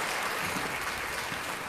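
A crowd claps in dense, steady applause for a short burst, even and fairly loud with no voices over it.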